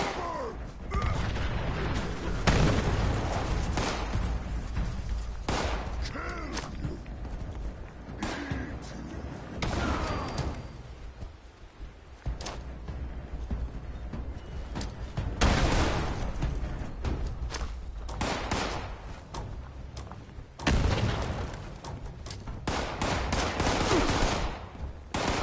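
Frag grenade blasts and gunfire from the Fallout 76 video game, a run of loud booming bursts scattered through dense combat noise, several sharp hits close together with brief lulls between them.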